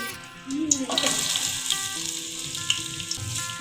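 Onions dropping into hot oil in a pot for beef korma, a steady loud sizzle and crackle bursting up about half a second in and continuing throughout, with faint background sounds but no clear talk.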